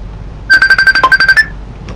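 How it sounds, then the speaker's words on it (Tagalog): A phone rings with a rapid, bright electronic warble of about ten quick pulses, then stops, leaving quiet room noise. "May tumatawag."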